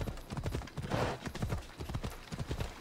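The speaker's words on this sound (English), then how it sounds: "at least we've got the horse now" Horse hooves clip-clopping in Assassin's Creed Odyssey, a steady rhythmic trot of many close hoof strikes continuing throughout, with faint background game ambience.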